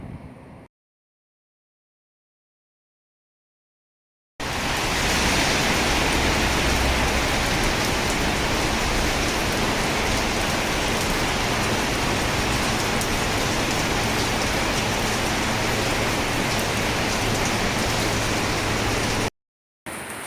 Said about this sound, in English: it started raining really hard and I ended up getting soaked all the way through